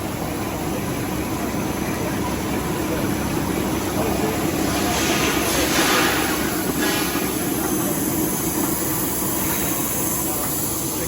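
Plastic-coating machines run on copper pipe in a Birmingham-made factory line, giving a continuous loud mechanical drone with a steady hum and a faint high whine, and there is no talking.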